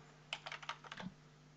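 Close, quiet typing on a computer keyboard, a quick run of about ten light key clicks ending in a firmer thump of the enter key while entering a name in a LibreOffice Calc spreadsheet.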